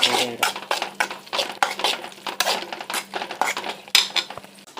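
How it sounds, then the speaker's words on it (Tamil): A spoon scrapes and clinks against a pan while tomato thokku is stirred, brisk irregular metallic strokes close up over a low simmering sizzle, with no talk. "நல்லா மிக்ஸ் பண்ணி விட்டோம்."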